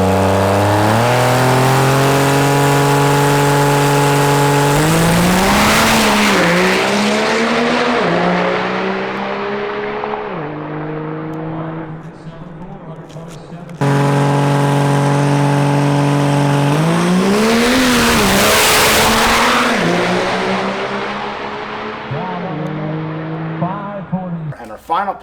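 Two back-to-back runs of a drag race car down the strip, recorded at a callout challenge drag day. Each starts with a loud launch, then rising upshift sweeps and a roaring pull that fades into the distance.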